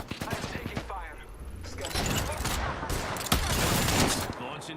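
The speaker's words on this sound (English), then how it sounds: "First blood. I am taking fire." Rapid bursts of automatic gunfire in a shooter video game, dense and close, mixed with other game sounds while a voice talks over it.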